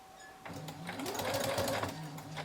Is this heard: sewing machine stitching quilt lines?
yes